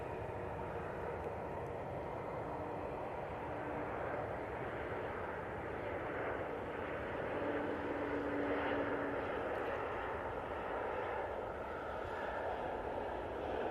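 A Finnair Embraer E190 jet landing at Manchester Airport, heard as a distant, steady engine roar and broad rushing noise that holds fairly even throughout.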